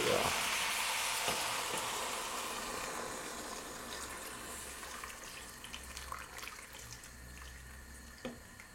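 Crushed garlic fries in a hot pan, a steady bright sizzle that slowly fades, broken by a few soft stirring clicks and scrapes near the end.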